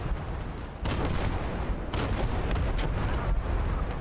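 Dense battlefield din from Call to Arms: Gates of Hell: Scorched Earth, with rolling artillery booms and bursts of rifle and machine-gun fire sustained for the full four seconds, loud and continuous, with no voices.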